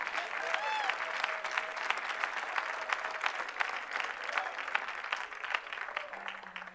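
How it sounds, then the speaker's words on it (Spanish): Steady applause from a church congregation at an evangelistic service, continuous and moderately loud across the whole stretch, with a voice speaking over it and faint tones sounding underneath. "Dele fuerte ese aplauso si conoce a Chepe"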